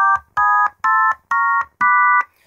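An Arduino-driven penny organ in chord mode sounds five short electronic four-note chords. Each is a bright, steady tone about a third of a second long, separated by brief gaps and played loud and close.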